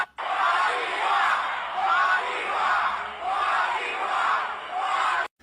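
A large Miss Universe pageant crowd cheers and yells in swelling waves, loud and sustained across the whole stretch, with no distinct talk.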